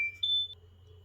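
A mobile phone gives a short electronic beep, a brief high tone followed by a sustained chime over a low hum, quiet and close.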